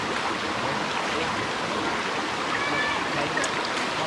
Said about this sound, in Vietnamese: Ở đây nước này, suối thì mát lạnh luôn này